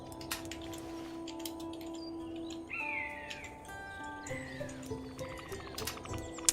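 A video game's collectible melody plays as a long chirp followed by three short chirps, bright tones over a steady game soundtrack with no speech.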